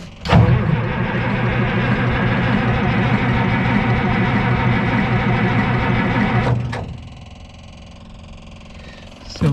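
An engine on a 50-plus-year-old excavator, primed with ether, cranks on the starter and fires, a loud continuous rough chugging that runs for about six seconds and then drops away to quieter background noise.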